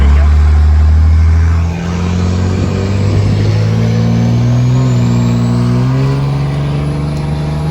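A car engine revs up hard and close, its pitch climbing steadily through several seconds of loud, continuous acceleration after a brief lull.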